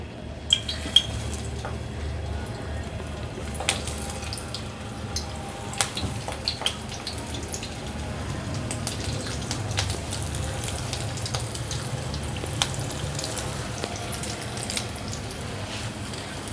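Cauliflower kababs frying in hot oil over medium heat, giving a steady low sizzle throughout with occasional light clinks of utensils against the pan, no talking.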